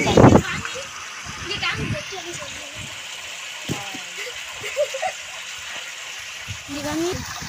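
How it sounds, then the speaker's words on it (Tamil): Water runs through an opening into a small village irrigation canal, a soft continuous trickle and gurgle with occasional splashes, heard under someone talking and children's voices nearby. "அந்த வாய்க்காலுக்கு இந்த வழியா தான் ஃப்ரெண்ட்ஸ் தண்ணி போகுது"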